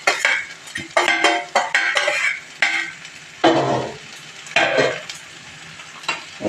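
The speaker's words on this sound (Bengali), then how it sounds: "এখন একটু হালকা ভেজে নেব।" Masala dosa filling with fresh coconut fries in a pan, with repeated sizzling bursts as a spoon stirs and scrapes the metal. The bursts come in uneven, close strokes, loud and near, with no talking.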